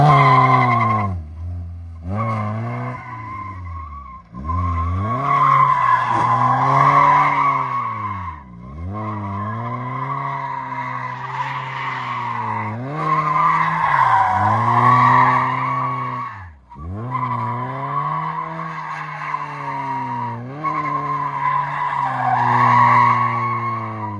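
A car with a welded differential drifting, its tires squealing loudly in long sustained howls that rise and fall with the engine revving, broken by brief pauses between slides.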